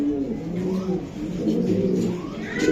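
A racing pigeon coos close by in soft, repeated throaty rolls, with a faint voice in the background.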